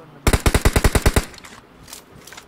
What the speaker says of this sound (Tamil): அவன் சுடல, வேற யாரோ சுட்டான்